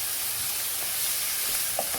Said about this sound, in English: We're gonna let that fry up.